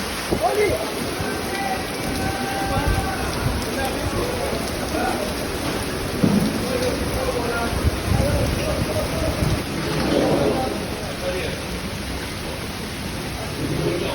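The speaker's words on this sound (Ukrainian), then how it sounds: "Розпочався дуже сильний дощ, але його не чути за стікаючою водою спонтанно." Heavy rain pours down steadily, mixed with rushing runoff water in a constant dense hiss, and faint voices murmur underneath, outside a fish restaurant opposite the fish market in Catania, Sicily.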